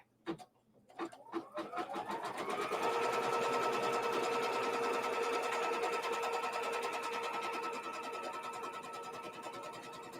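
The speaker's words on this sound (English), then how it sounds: "now we're going to stitch down my first piece of fabric" An embroidery machine stitches fabric down in the hoop for a quilt block. A few soft clicks come first, then a steady, fairly quiet mechanical whir rises and runs on with a fast needle rhythm.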